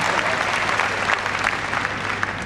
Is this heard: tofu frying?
no